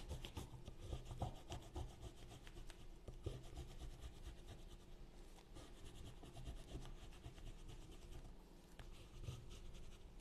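A Magnolia transfer is rubbed firmly onto fabric, giving a continuous close, dry scratching and scraping with rapid back-and-forth strokes at a low, even level.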